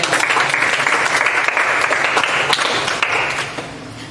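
An audience at a French-language Christian children's TV broadcast claps in sustained, dense applause, close and loud, holding steady before tapering off toward the end.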